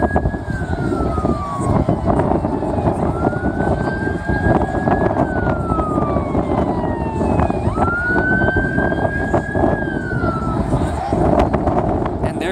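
A Sturgeon County fire truck siren wails as the engine approaches a school, with long rising and falling sweeps repeating steadily and loudly over continuous traffic rumble.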